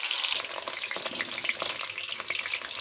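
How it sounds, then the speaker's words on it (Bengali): Potato pieces are slid into hot oil, which sizzles and bubbles steadily and close up, with faint stirring scrapes underneath. "ব্যাস, আমরা এবার আলুটাকে গরম তেলে ছেড়ে দেবো আস্তে আস্তে।"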